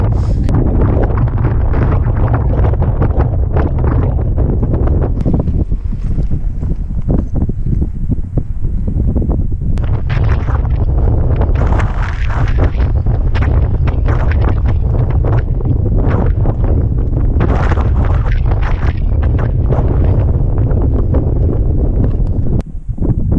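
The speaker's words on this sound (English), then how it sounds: "Still windy." Strong gusting wind on Ben Hope, a Scottish mountain in Sutherland, buffeting the microphone in loud, continuous roaring blasts with no talking.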